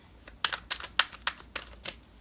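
Tarot cards are shuffled in a quick series of crisp riffling bursts, close up, with no talking.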